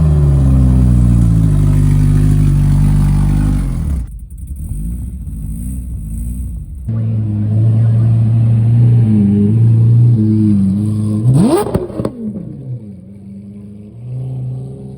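At the Caffeine & Carburetors car show, a car pulls out with a loud, deep engine rumble and revving, then a pause before another strong rev rising in pitch as it drives off nearby.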